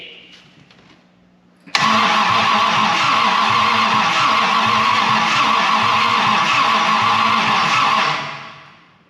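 A 1940 Dodge engine cranks over loudly and steadily with a faint uneven gallop, starting abruptly after a quiet moment and running for about six seconds before fading out.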